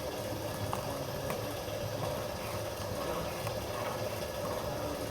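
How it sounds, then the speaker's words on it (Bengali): Tea with milk and sugar boils in a pan, a dense, steady bubbling and rumbling close by, with no pauses and no voices. "চাটা বলক এসে পড়েছে"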